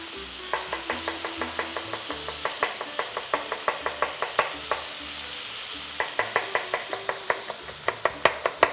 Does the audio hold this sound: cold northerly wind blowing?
no